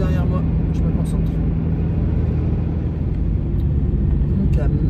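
A small car passes behind a person on a road, a steady low engine and tyre rumble holding throughout at moderate level, with faint background noise and no clear approach or fade.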